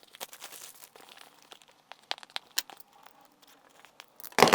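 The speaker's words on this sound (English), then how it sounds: "If we open up the box now," Crinkling and tearing of packaging as the box of a Turnigy Trackstar 30A 1/16 RC speed controller is opened, a run of close, quick rustles ending in a louder rip.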